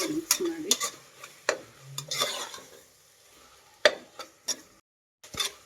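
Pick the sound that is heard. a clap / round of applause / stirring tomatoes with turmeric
stirring tomatoes with turmeric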